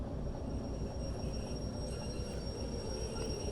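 A freight train in the Derail Valley simulation grinds and rumbles under full braking, a dense, continuous low roar of wheels and brakes with no voices.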